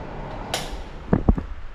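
A short scrape followed by a couple of sharp wooden knocks and clicks, close by, as a door is pulled open.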